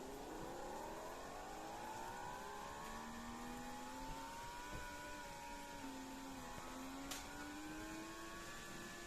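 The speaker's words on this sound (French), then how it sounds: "je vous laisse admirer le son de cette voiture" A car engine in the Roblox video game revs and climbs steadily through its gears, a smooth synthetic whine that rises in pitch and holds, with no talking.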